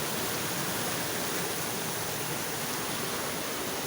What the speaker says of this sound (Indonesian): Ini air yang ada di bawah jembatan Laweyan. Suaranya seperti bah, seperti gelombang pasang air laut.